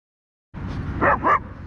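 A pit bull and a Belgian Malinois at a dog park give a short, loud burst of close barking and yelping, two sharp yips standing out after a moment of silence.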